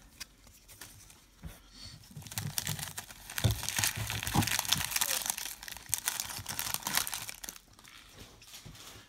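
A 2018 Upper Deck Goodwin Champions trading card pack wrapper being torn and crumpled open by hand, a run of close crinkling and ripping bursts that swell in the middle and then taper off.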